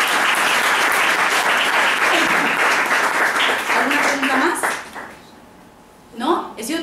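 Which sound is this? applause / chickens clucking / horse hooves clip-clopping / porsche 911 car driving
applause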